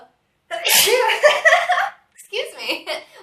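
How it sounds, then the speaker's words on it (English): Someone sneezes loudly and sharply twice in quick succession during a gentle yoga and meditation session, each burst close and breathy with a short pause between them. "Worked out some sneezes there."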